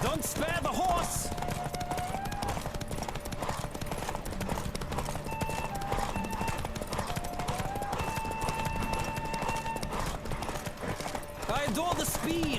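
Racing horse gallops in The Witcher 3, a steady rapid clip-clop of hooves running continuously with game music and ambient sound underneath, voices speaking over it at times.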